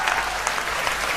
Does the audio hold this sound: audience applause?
yes